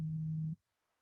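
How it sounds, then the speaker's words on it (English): A phone buzzes in steady vibration for about half a second, a close, loud, continuous low hum that stops abruptly, followed by near silence. "my phone's buzzing"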